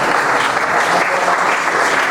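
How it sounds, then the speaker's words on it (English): Conference audience applauding after a speaker, a loud, even wash of clapping from a full room, sustained without pause. "A round of applause please again."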